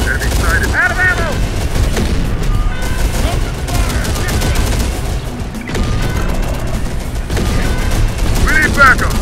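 Rapid bursts of gunfire and explosions in the Terminator: Dark Fate - Defiance video game, loud and nearly continuous, mixed with voices calling out over the shooting.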